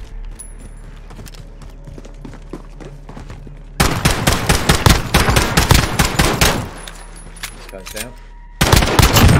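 Rapid automatic gunfire in the Warzone video game comes in loud, dense bursts that begin abruptly partway through, with quieter game sounds before and a voice speaking briefly.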